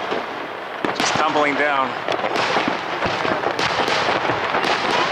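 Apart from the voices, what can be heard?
fireworks on New Year's Eve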